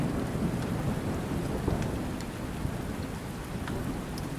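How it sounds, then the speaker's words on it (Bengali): Heavy rain pours steadily at night as a storm rages, a dense close wash of drops with a few brief sharper cracks and rumbles, no voices over it. "বৃষ্টির কোনো বিরাম নেই।"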